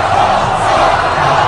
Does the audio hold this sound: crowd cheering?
yes